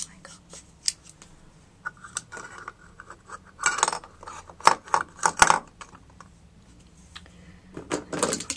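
Small clinking and rattling clatter as several pencils are dropped into a cup, irregular bursts close up, with a quiet pause in between.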